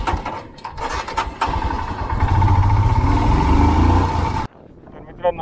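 A rented motorcycle fires up and revs at the start of a Spiti road trip, a loud, close engine rumble building and holding for several seconds before cutting off abruptly, with voices over it.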